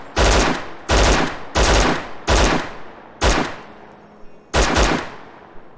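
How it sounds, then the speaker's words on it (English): Gunfire in the video game Dead Matter: six loud, close bursts of weapon fire at roughly even intervals, each a sharp broadband blast with a short decaying tail, separated by brief near-silences. "Audio has been fixed for guns."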